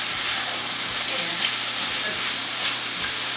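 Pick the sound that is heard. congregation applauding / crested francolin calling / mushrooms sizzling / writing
mushrooms sizzling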